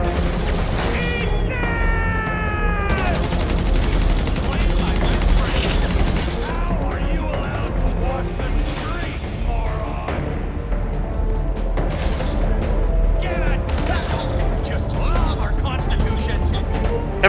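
Dense, continuous gunfire in GTA 5 zombie survival, rapid overlapping shots and bursts that stay loud throughout, with a brief high electronic tone early on and excited voices talking over the shooting.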